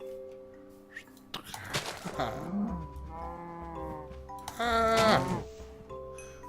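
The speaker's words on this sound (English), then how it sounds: "See all these cows over here?" Cows moo in the video game Minecraft, with two drawn-out harmonic calls in the middle and near the end, each a few seconds apart, over faint background noise and clicks.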